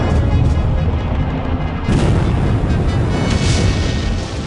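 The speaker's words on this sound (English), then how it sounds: "An explosion lit off the gunboat's magazine, sending the blockade vessel down." An explosion sets off a Civil War blockade gunboat's magazine and sinks the wooden-hulled vessel: a loud, sustained rumbling blast with crackling debris and roaring low-end noise that swells again midway, heard without voices.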